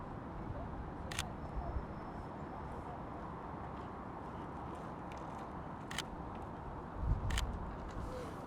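A camera shutter clicks in manual focus, three sharp, brief snaps spaced a few seconds apart over a low, steady outdoor background hum.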